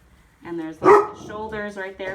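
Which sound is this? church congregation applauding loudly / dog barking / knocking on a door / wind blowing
dog barking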